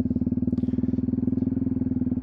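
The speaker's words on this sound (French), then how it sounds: "Tu vas vraiment accélérer un tout petit peu, mais vraiment, tu tournes à peine la poignée. La moto va commencer à prendre de la vitesse." Motorcycle engine close by, running with a steady low, even pulsing throb while the throttle is opened only slightly, holding nearly constant rather than revving high.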